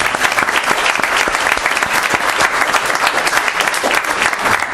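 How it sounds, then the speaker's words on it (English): A crowd at a township committee meeting applauds loudly and steadily, the dense clapping staying even from start to finish. "so big round of applause."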